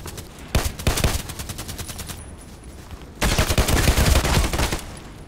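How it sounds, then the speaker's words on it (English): An APS automatic pistol fires in Contract Wars in two sustained rapid bursts, the first about two seconds long and the second louder one after a short pause, close and with no talking. "let's better try the pistol"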